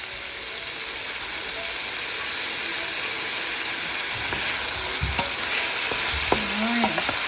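Blanched squid in teriyaki marinade sizzles and crackles as it is stir-fried in a hot pan. The frying hiss is loud and continuous, and a few clinks and scrapes of the utensil come near the end.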